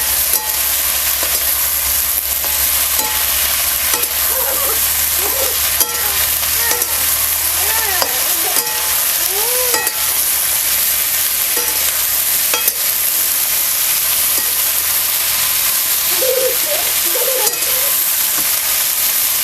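Vegetable biryani masala with capsicum, tomato and coriander is stirred in a pan, giving a steady close sizzle of frying with repeated scraping and stirring strokes throughout, and no talking.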